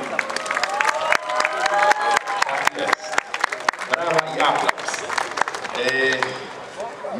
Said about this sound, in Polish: Brawa dla Was i dziękuję za Wasze pielgrzymowanie.